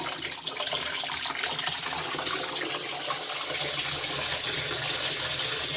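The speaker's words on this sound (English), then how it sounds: "all the hot water's pretty much drained out" Water gushes steadily out of a household water heater tank as it drains, a continuous rushing, splashing flow close by, with no pauses or voices.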